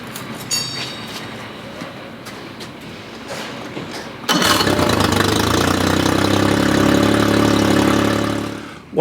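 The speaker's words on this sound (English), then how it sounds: "Next thing we need to do is start the motor" A four-stroke outboard motor starts after an oil change: faint clicks and bumps first, then the engine catches and settles into a loud, steady idle that runs to the end before a sudden cutoff.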